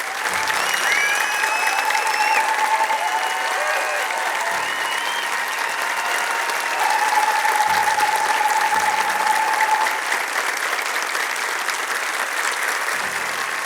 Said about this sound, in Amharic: አንድ ጊዜ በታላቅ ጭብጨባ በታላቅ አክብሮት እናመስግናቸው።